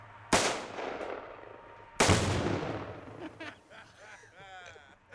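Two sharp rifle shots at a tannerite target ring out a couple of seconds apart outdoors. Each crack rolls into a long echoing boom, with a voice talking briefly near the end.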